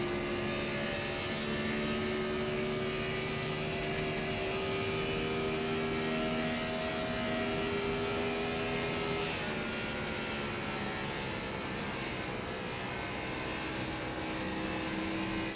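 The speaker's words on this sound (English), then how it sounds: "Watch the hands and listen to the throttle." Onboard a Gen 4 Cup race car at Texas Motor Speedway, the engine drones steadily and loud, its pitch rising and falling as the throttle is worked, with no talking.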